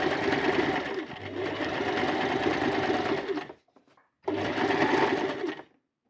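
A domestic sewing machine runs in two fast, even bursts while stitching a dart on the front panel of a straight skirt, with a short pause between runs and no talking.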